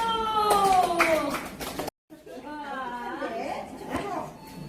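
Elderly adults at a day-care center clap during a bean-bag toss game, a short burst of claps rising in the first half with a voice over it, then more talk after a brief gap.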